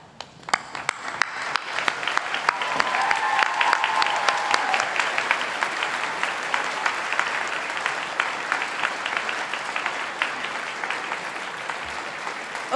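Graduates at a Faculty of Health convocation rise and applaud their families and friends, a broad, sustained clapping from a large hall crowd with scattered sharper claps standing out near the start.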